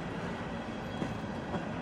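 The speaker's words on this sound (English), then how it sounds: "As the grain train continued to get into the siding" A CSX grain train rolls steadily into a siding on the Scottslawn Secondary, a continuous broad rumble of railcars with faint wheel clicks, heard from a moderate distance with no voices.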